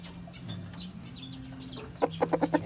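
A chicken clucks nearby. Low murmuring calls come first, then a quick run of five or six sharp, rhythmic clucks at the end.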